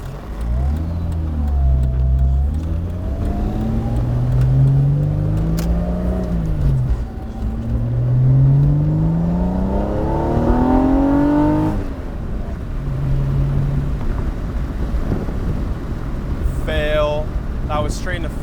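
Inside a Miata swapped with a Honda Odyssey engine, the motor rises and falls through several hard pulls and gear changes on backroads, loud and near, with people talking over parts of it.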